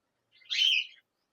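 A pet lovebird in a cage lets out a single short, bright chirp lasting about half a second, close and isolated against silence.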